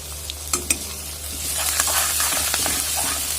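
Meat fries with onion and ginger-garlic paste in a hot pan, a dense, steady sizzle with a few sharp stirring clicks near the start, close and alone.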